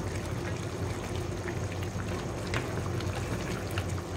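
Spicy beef caldereta simmering in a pot, a steady close bubbling and popping with soft liquid gurgles throughout, no talking.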